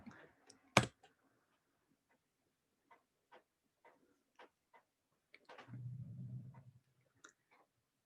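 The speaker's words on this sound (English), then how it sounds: "I'm going to run the application by typing Ruby bin/Wheel of Fortune in the terminal." Scattered single key clicks on a computer keyboard, sparse and quiet in a silent room, with one sharper click early and a brief low rustle later.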